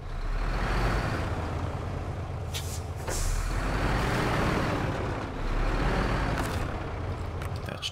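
A heavy truck in the SnowRunner video game rumbles loudly while hitching up a trailer, with several sharp hissing air-brake bursts breaking through the continuous engine noise.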